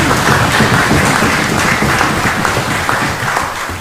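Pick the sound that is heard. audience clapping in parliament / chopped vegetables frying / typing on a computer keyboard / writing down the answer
audience clapping in parliament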